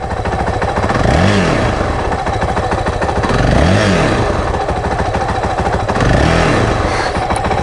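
A Honda CRF450L engine idling with a Rekluse Radius CX clutch fitted while the clutch lever is pulled in, a close, steady loud thrumming with clattery mechanical ticking and three gentle swells in revs.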